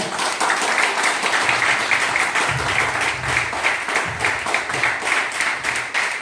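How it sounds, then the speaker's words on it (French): Audience applause welcoming Didier Kwasi, a teacher introduced as a born leader, to the stage at an evening event; steady, dense clapping from a crowd holds at full strength throughout. "sous vos applaudissements"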